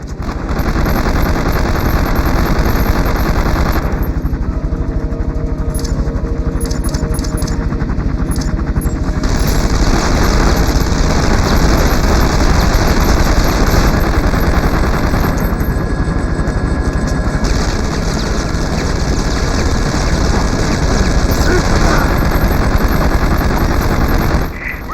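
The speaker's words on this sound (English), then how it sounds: "Madsen, the LZ is hot. I repeat, the LZ is hot. Madsen, we're under fire." Continuous machine-gun fire in 24: The Game at a hot landing zone during a helicopter fight, a dense, loud, unbroken rattle across the whole stretch with dialogue occasionally under it.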